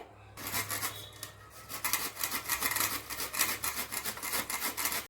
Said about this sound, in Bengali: এটা আমি এবার এটাকে গ্রেড করবো।